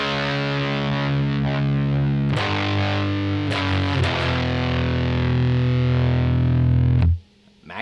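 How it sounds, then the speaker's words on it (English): Distorted electric guitar run through a FUZZimp Obtainium Overdrive pedal set to three-quarter gain, sustained fuzzy chords changing a few times before cutting off abruptly near the end, with no one talking. "Now you can kind of hear the fuzz kick in"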